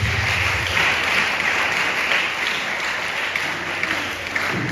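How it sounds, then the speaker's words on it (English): An audience at a school science and maths quiz in Ekumfi claps steadily and evenly for several seconds, a dense continuous patter of many hands with no voices on top. "Let's clap for them"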